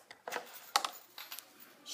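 A paper clip is handled and bent straight by hand while making coho lures, giving a few close, quiet metallic clicks and small taps spread across a short stretch with no talk.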